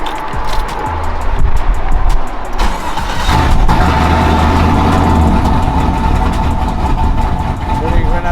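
A car engine runs roughly and unevenly after its fuel pump relay is pulled, settling toward a rough idle as it starves for fuel. The running is steady and fairly loud, with voices talking over it.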